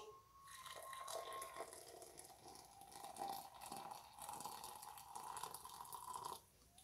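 Hot water poured from a kettle onto ground coffee in a French press coffee maker, a steady close trickling and splashing stream that runs for several seconds, pauses briefly, then continues before stopping.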